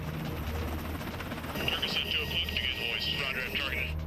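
A helicopter hovers, droning steadily with a low rotor rumble and a high whine from the engine, continuous and fairly close throughout, during a survivor hoist rescue.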